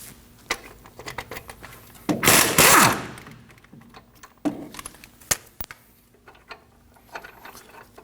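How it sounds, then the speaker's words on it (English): Caliper bracket bolts being removed with a 21 mm socket on a 2009-2014 Ford F-150 front knuckle, giving scattered ratchet clicks and metallic knocks, with one louder grinding burst of loosening, close up. "We can go ahead and remove both of the caliper bracket bolts using a 21 millimeter."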